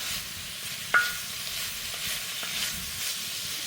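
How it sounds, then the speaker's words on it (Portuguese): Chopped pork belly, already roasted on a barbecue grill, fries slowly in a pot with a soft steady sizzle, broken by a few sharp clinks of a utensil against the metal. "Agora eu vou deixar fritando aqui devagarinho"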